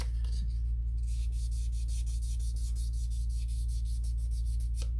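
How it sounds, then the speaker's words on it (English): Steady rhythmic light sanding of an Edsel car body with sandpaper, light strokes repeating evenly over a constant low hum, close by, with no talking. "we're just going to give it just a dusting."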